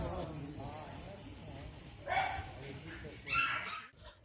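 A Jack Russell Terrier gives a couple of short, sharp barks in bursts near the middle and end, with low background noise and speech-like sound running underneath.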